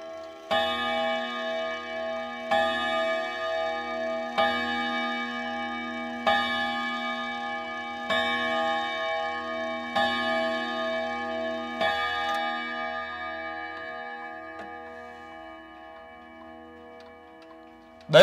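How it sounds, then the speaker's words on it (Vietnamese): An antique Odo 62 clock plays its chime, a series of clear, ringing tonal strikes at a steady, measured pace, each note sustaining and fading into the next, close and alone. "Đấy là tiếng chuông chiếc Odo 62 vừa chơi lên các bác ạ."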